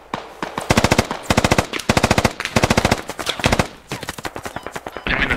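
Automatic gunfire in the video game Insurgency, loud close bursts of rapid shots in repeated volleys with brief gaps, more scattered shots trailing off at the end.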